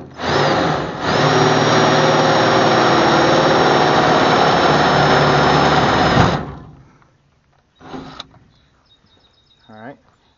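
Power drill spinning a Christmas tree step bit through metal on a garden trailer: a loud, continuous high whine for about five seconds, then it winds down, followed by short, fainter bursts and clatter.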